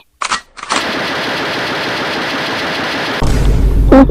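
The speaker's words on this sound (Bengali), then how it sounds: "গুলিটা চালা" Comic gunfire sound effect from a Bengali Pushpa 2 parody sketch: a loud, sustained machine-gun rattle after a brief opening burst, then an even heavier burst of fire near the end.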